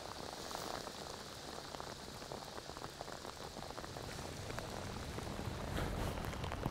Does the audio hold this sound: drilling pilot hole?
no